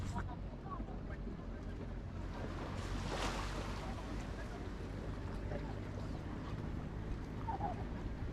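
Steady broadband rumble and wash of a boat moving across water, continuous throughout with wind buffeting, no clear talk.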